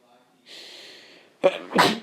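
A single close sneeze, a short breathy intake followed by a sharp explosive burst.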